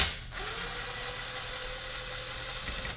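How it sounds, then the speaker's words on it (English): A ratchet clicks steadily while backing a bolt out of a Subaru WRX twin-disc clutch with a strapped mid plate, a close, even run of rapid pawl clicks lasting nearly three seconds. "So actually I need to take one of these bolts back out."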